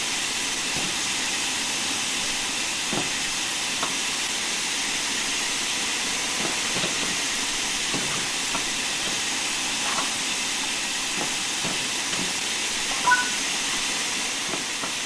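Constant loud steam hiss from a steam train's passenger doors in Train Sim World 4, during passenger operations training, with scattered faint clicks and knocks under the continuous rush.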